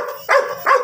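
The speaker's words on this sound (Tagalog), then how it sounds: "Nakikita niya yung mukha niya kaya tumatahol na yan." Two sharp barks from a male dark sable dog, close and loud, spaced about a third of a second apart with a quieter pause between them.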